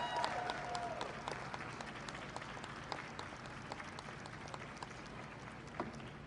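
Audience applause at a Juneteenth flag-raising event in Chicago, a dense, steady wash of many hands clapping that carries on for several seconds at moderate distance, with a faint voice briefly at the start.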